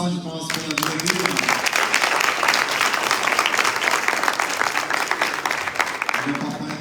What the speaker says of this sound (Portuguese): Vamos dar mais uma salva de palmas pela vida dele.